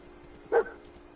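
A single short bark from the dog companion in the video game Fallout 4, fairly close and clear, rising briefly over a quiet background hum with no talk.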